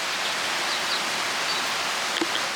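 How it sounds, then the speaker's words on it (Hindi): Steady rain falling outdoors on a dark morning, a continuous even hiss with no speech over it, fairly loud throughout. "बारिश भी हो रही है।"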